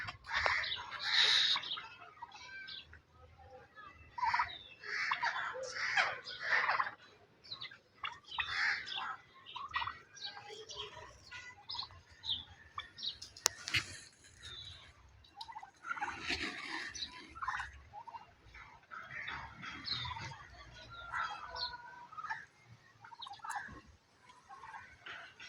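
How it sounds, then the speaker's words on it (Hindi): Domestic turkeys and other fowl calling in a pet bird yard: continuous overlapping gobbles, clucks and squawks, fairly close and busy throughout, with no talking. "अभी टर्की बर्ड्स दिखाते हैं"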